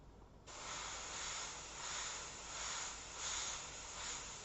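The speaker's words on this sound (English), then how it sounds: "now we're going to spray the undershadow of her clavicle." An airbrush sprays paint onto a portrait, starting after a brief quiet moment and then hissing steadily and close for several seconds with gentle swells in strength, with no voices.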